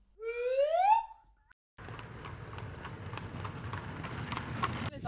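A horse canters on the lunge line with a rhythmic series of hoofbeats on the ground. A short whistle-like call comes first, then a pause, then the steady three-beat thudding.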